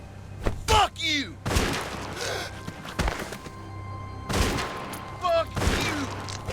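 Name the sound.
gunshots in The Walking Dead video game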